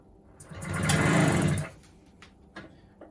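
A 1961 NSU Quickly S two-speed classic moped engine briefly catches and buzzes for about a second during a kick start, then fades back to quiet with a few small knocks.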